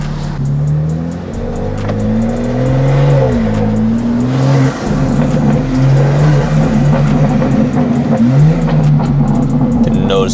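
A BMW G87 M2 fitted with titanium intakes is driven hard, its engine revving up and down through several loud, rising pulls with bursts of tire squeal. Muffled voices sit beneath the engine noise.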